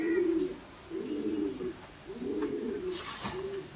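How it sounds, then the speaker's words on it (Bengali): Pigeons coo in a loft, several soft low throaty coos in separate bursts with short quiet gaps between them, close by, plus a brief high chirp or rustle near the end and no talking. "এটা আমার ফ্লাইয়ের কবুতর, রেস্ট দেওয়া হয়েছে এখানে"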